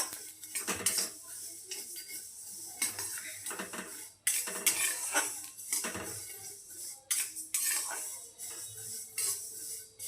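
Cloves and spices dry-roast in a pan for lemon pickle, coming through as a steady run of scraping and clattering as a spatula stirs against the metal, with repeated knocks and brief pauses.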